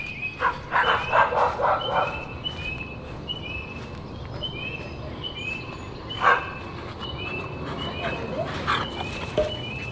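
German Shepherds give a few loud barks up close, then mostly quiet down while birds chirp repeatedly in the background of an outdoor summer setting.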